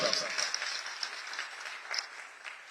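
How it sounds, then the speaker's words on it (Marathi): Audience applause at a live event distributing aids to disabled and senior citizens in Dhantoli, Nagpur: a steady, dense wash of clapping that holds through the clip and fades slightly toward the end. "त्याच्यासाठी जोरदार टाळ्या वाजवा"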